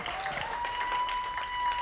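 Faint, distant applause from the audience at a comedy bootcamp show, a soft continuous patter of clapping for the performers.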